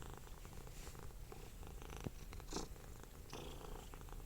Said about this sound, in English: listen to these purrs